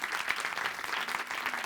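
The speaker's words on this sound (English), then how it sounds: "And another round of applause" Audience applause for a film team at a première screening, a steady dense wash of many hands clapping at once, moderately loud and continuous without breaks or voices.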